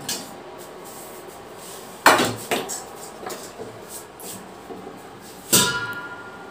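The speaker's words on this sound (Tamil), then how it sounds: "ஃபர்ஸ்ட் நீ தட்டில் நூடுல்ஸ் எடுத்து வை." Trichy-style Atho noodles are served onto a plate, making a few scattered clinks and clatters of a utensil against the dish, two sharper knocks standing out from quieter scraping.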